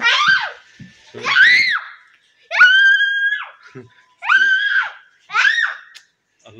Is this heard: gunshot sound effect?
no